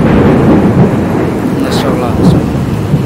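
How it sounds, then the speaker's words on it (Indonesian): Thunder rolls loud and close during a dark rainstorm over Mecca, a deep continuous rumble layered over the constant wash of falling rain. "Petir menggeletar ya."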